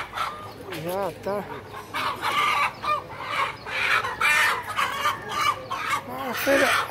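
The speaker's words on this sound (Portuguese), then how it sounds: "Aqui dentro é tudo galinha também, né?" Free-range chickens at a poultry market in João Alfredo, Pernambuco, cluck busily while a rooster crows, loud and close, with overlapping calls throughout and people talking in the background.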